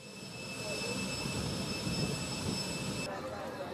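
Airplane engine roar, a broad steady rumble heard close and sustained throughout with a constant high whine on top, as a voice talks over it.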